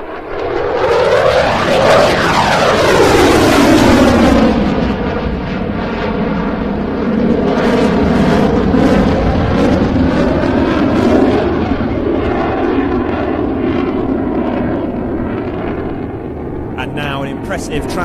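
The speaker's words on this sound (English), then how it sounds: "fast pass and then braking into a very aggressive barrel roll, decelerating rapidly as it does so." A fast jet passes at an air show at about 600 knots, then brakes into an aggressive barrel roll and slows rapidly. The engine roar is loud and sustained, with a sweeping Doppler whine and a rumbling, fading tail.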